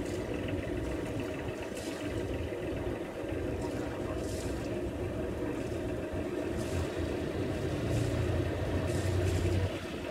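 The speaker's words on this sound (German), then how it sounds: "Also raufdrücken und dann fährt er hoch, der Motor." Inboard engine of a sailing yacht running and revving up toward cruising speed, a steady low mechanical drone with a slight rise in level near the end, alongside wind noise.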